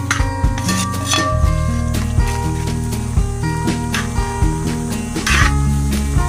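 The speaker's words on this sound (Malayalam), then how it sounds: "ഇനി ഇതിന് നല്ലപോലെ മിക്സ് ചെയ്ത് കൊടുക്കാം." Spices stirred into a pot of chicken stew: a spoon clinks and scrapes against the metal pot in repeated close, loud strokes, with faint cooking noise underneath.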